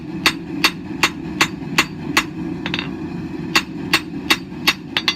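Hammer blows on hot steel tapering a Viking spoon knife blank, about fourteen sharp ringing strikes at a steady forge rhythm, close and loud over a low background rumble.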